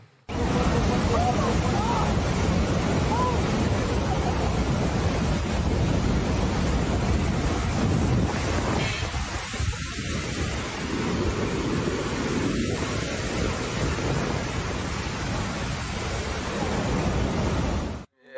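Roar of Victoria Falls, a dense steady broadband rush of falling water that fills the whole stretch at high level, with brief faint sounds breaking through midway.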